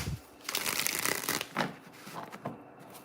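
A tarot card deck being shuffled up close, giving a dense papery riffle that surges twice with a brief pause between, with no talking over it.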